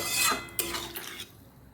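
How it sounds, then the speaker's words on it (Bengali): A spoon scrapes and rasps around a pot of mixed-vegetable curry in a few short sweeping strokes, close and moderately loud, then fades to near quiet. "আর এটাকে ভালোভাবে নেড়ে নিয়ে"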